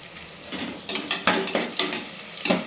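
Onions sauté in a pan with cinnamon, cloves and mace, a close sizzle punctuated by several quick stirring scrapes in an uneven rhythm over a few seconds, with no speech.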